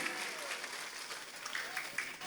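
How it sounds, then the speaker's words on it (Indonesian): Brief applause from an audience at a village religious gathering in Ciamis, a moderate patter of clapping with a voice faintly present underneath. "Tepuk tangan dulu dong buat panitianya."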